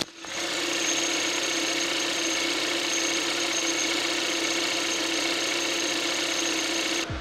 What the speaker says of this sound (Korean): 네, 엔진 소음도 한번 들어보시도록 할게요.